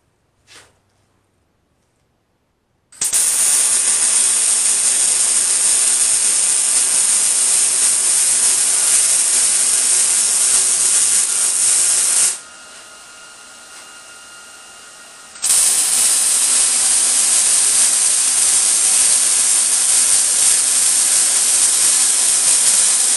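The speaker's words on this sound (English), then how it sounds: "Let me get this welder all fired up, and we'll weld one of those shut for you." Welder fired up to weld a hammer holder shut: a loud, steady hissing roar starts abruptly, drops briefly to a quieter hiss midway, then resumes at full strength, close by.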